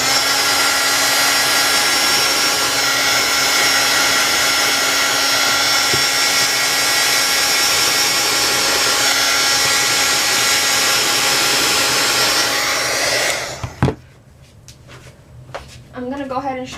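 Hair dryer blowing steadily on freshly dyed craft trim, a loud continuous whoosh and whine that runs for most of the time, then cuts off abruptly, leaving quiet handling noises.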